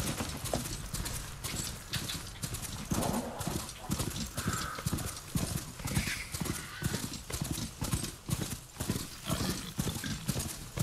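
Steady rhythmic clip-clop of a horse-like mount's hooves in Horizon Forbidden West, loud and continuous throughout, with a brief whinny-like call mixed in.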